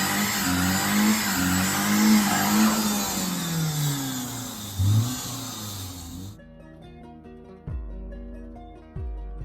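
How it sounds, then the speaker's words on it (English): A BMW E30 318i four-cylinder engine with a ticking noise runs and revs loudly and close for about six seconds, then cuts to a quieter, lower idle with occasional thumps. "Little 4-cylinder. That's like a ticking noise."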